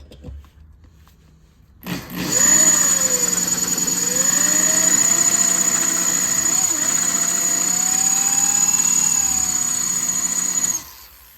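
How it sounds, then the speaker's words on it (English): A power drill drives a bit through metal on a 2009 police motorcycle brake pedal, whining steadily for about nine seconds, a loud, sustained motorized drone with a high steady tone, starting and stopping abruptly. "I think if I drill through this, this drill bit size should go through no problem"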